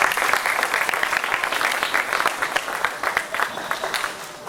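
Applause from the crowd at a county fair meat goat show for the senior division participants: dense, steady clapping with sharp individual claps, close and loud, filling the whole stretch without talk.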